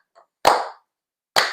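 A slow clap: two sharp, close hand claps about a second apart, each ringing briefly before silence, with no one talking.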